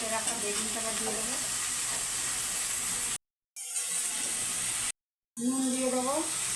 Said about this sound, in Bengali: পেঁয়াজ ভাজা হয়ে গেছে, বেগুন দিয়ে দেবো